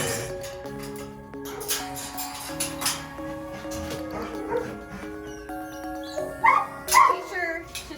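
Several dogs in outdoor kennels, yelping and barking intermittently, with louder bursts toward the end, over a steady background of music-like tonal sound.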